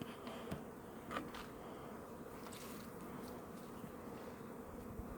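Honey bees buzzing steadily as they leave their hive after wintering, a dense continuous drone with a few louder individual bees passing close by.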